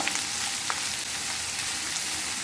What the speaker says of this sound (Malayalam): അപ്പം സവാള ഒന്ന് ഇളക്കി ഒന്ന് വഴറ്റിയെടുക്കാം